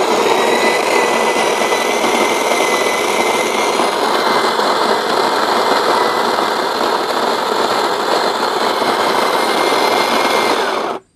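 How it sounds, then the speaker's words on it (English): An electric burr grinder grinds coffee beans in a steady, loud whirring buzz that holds for about ten seconds, then stops abruptly, with no talking. "So let's grind some coffee beans."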